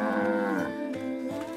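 A cartoon cow in a Soviet animated village farm scene gives a long, loud, drawn-out moo that slides down in pitch, followed by a couple of shorter lowing calls, heard alone without talk.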